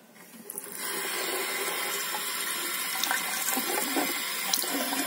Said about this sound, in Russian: Водичка бежит.